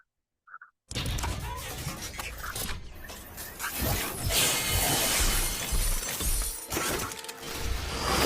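Legendary-reward loot box opening effects from a video game: a short chime, then a loud, dense burst of bright crashing, shattering sound effects with music that stays intense throughout.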